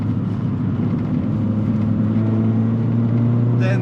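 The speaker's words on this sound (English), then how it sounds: "this car has a Miltech non-resonator exhaust, so you're probably struggling to hear me properly. It's quite loud" A Renault Clio Trophy fitted with a Miltech non-resonator exhaust drones loudly and steadily from inside the cabin, a deep constant engine rumble at cruising revs that fills the whole space.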